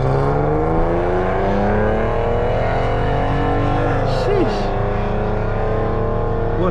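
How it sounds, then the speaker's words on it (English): Loud car engine roaring steadily nearby, with a sweeping pitch shift as it drives by, heard over the droning cabin of another car on a drive, with voices talking over the engine noise. "That car is loud as hell."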